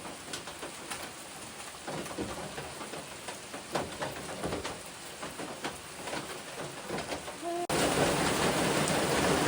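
Steady rain patters outdoors with scattered louder drops, then the hiss grows denser and louder near the end.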